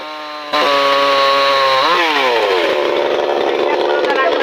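Chainsaw cutting a tree fallen onto an electricity distribution line, starting loud and steady after a half-second pause, its engine pitch rising then dropping as the blade bites into the wood, close by with voices around.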